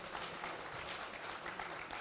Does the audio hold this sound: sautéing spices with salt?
no